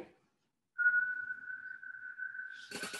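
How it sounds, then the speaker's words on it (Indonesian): A single slow, steady whistled exhale holds one thin tone for about two seconds, followed by a short breathy puff of air. "Jadi kamu pelan-pelan niup kayak orang bersiul"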